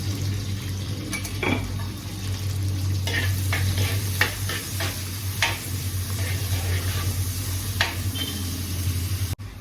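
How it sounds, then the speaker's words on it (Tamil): Beef deep-frying in a pan crackles with a constant dense sizzle, broken by several sharp scrapes and clinks of a spoon against the metal, close and fairly loud, with no talking. "டீப்பாக ஃப்ரை பண்ணணும்"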